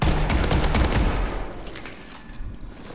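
Rapid bursts of gunfire from a shooter video game, a dense loud volley that fades into sparser, quieter shots.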